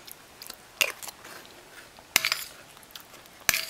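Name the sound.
biting and chewing a graham cracker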